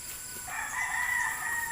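A rooster crows once close by, a loud drawn-out call rising and holding over a faint background hiss.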